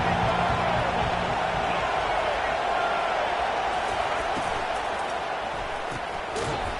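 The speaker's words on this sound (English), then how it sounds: "Man, this crowd really affecting the football game" Steady stadium crowd roar in the NCAA 25 college football game, a dense continuous wash of noise holding level throughout, with a commentator talking over it.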